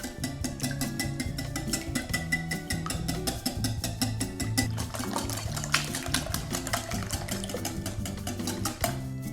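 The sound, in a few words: whisking eggs with salt, black pepper and garlic powder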